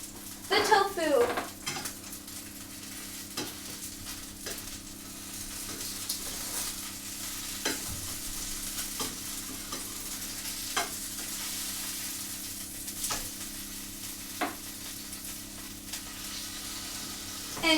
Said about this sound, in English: Alright, I'm going to flip the tofu.